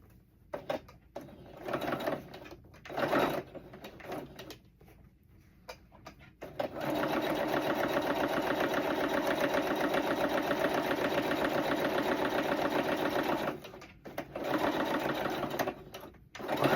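A sewing machine top stitching a fabric pocket closed, short stop-start runs of its rapid mechanical whirr, then one long steady stretch of stitching before more brief bursts, close up with no talk.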